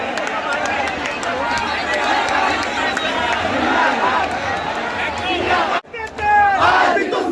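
A large protest crowd at Jantar Mantar at night chants and shouts loudly and continuously, a dense roar of many voices close by, briefly cutting out near the end before resuming.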